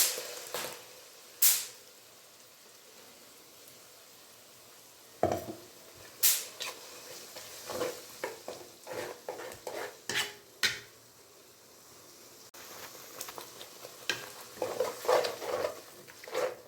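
Ground masala frying in oil with chilli powder while being stirred for tomato kurma, quiet sizzling under intermittent scraping and clinking of a spoon against the pan, sporadic and close.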